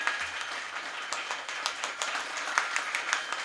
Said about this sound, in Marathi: टाळी जोरात जोरात जोरात